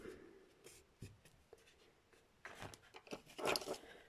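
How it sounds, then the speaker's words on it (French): A paper flap on a scrapbook album is folded and pressed down onto double-sided tape, making soft close rubbing and scratchy pressing sounds with a few light taps, faint and intermittent. "je fais le rabat pour que ça colle"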